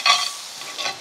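Garlic and shallots frying in melted butter in a pan, a short close hiss and crackle with a quick stirring scrape at the start and a second swell near the end.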